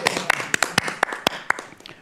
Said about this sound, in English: I feel like we should have a little round of applause.